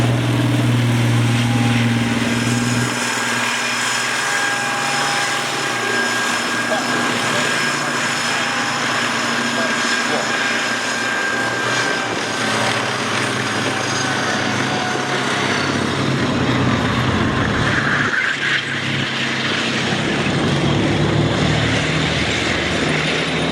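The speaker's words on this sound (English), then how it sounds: "We have 2 British Army vehicles coming on." Two British Army vehicles driving past at Tankfest 2024, a loud continuous engine roar with shifting tones and a passing swell in the middle, with no talk.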